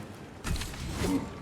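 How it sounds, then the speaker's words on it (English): A weapon magazine is swapped in Warhammer 40,000: Space Marine 2, two quick mechanical clicks and creaks close up, a short metallic reload sequence over low background rumble. "Changing magazine."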